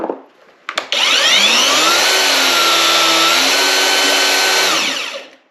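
An Anbull 1000W cordless electric rebar cutter spins up after a couple of clicks and holds a loud, steady motor whine with a rising grinding tone for about four seconds, then winds down and stops.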